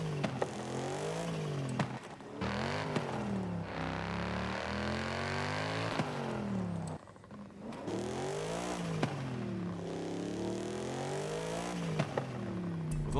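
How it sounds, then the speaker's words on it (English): In Forza Horizon 5, a car engine and modified exhaust rev up and down through repeated gear changes. The pitch climbs and then drops back with each shift, a steady, close, sustained roar with no talking over it. "When changing your exhaust, for example, you can clearly hear a difference in tone, coupled with a more pronounced sound from the engine"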